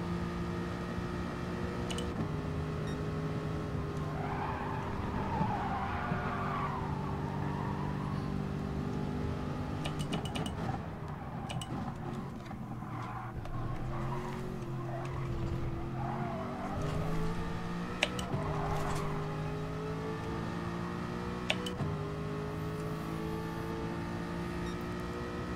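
A race car in a racing video game revs and skids through corners, its engine droning steadily with rising and falling pitch while tires squeal in drawn-out bursts, continuous and close throughout.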